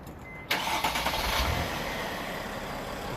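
A 2013 Mercedes Sprinter van engine cranks and catches about halfway in, then settles into a steady, close idle with a few uneven pulses.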